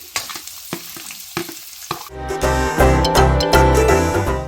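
Chopped onions hit hot oil in a pan and settle into a loud, dense sizzle with clinks of a stirring spoon, after a few sharp taps against the pan.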